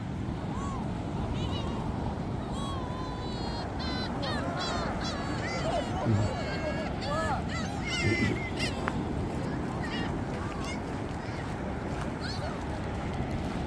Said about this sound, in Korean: 갈매기 가까이서 보니까 엄청 크네요